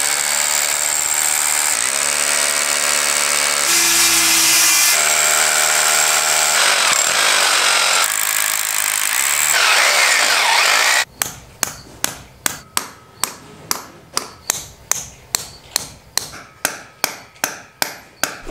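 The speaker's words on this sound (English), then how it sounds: "I just took the hammer drill and we have a 1/2-inch bit on here and I ended up drilling 4 holes" A hammer drill fitted with a 1/2-inch bit bores holes in a concrete basement slab, giving sharp rapid percussive bursts in a steady repeating rhythm, loud and close, after a stretch of continuous droning machinery noise.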